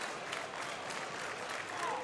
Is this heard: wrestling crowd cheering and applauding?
yes